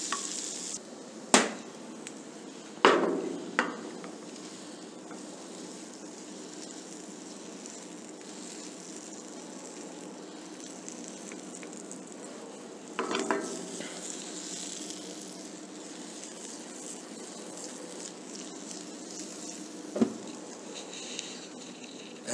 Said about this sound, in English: we will toss these vegetables in little butter